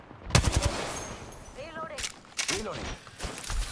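Apex Legends gunfire: a sharp rapid volley of automatic shots up front, then scattered further bursts, with voices talking in between.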